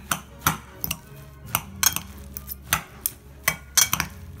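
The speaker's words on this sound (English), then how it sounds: "Mix them well so that all the flavor mix together." A utensil mixes seasoned ingredients with paprika, salt and pepper in a bowl, giving a string of sharp clinks and scrapes at an uneven rhythm, close and alone without talk.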